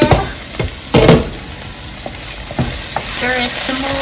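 Yellow squash for arroz con pollo sizzles steadily in a hot pan while a utensil scrapes and stirs it in several separate strokes, close and loud, with no talking.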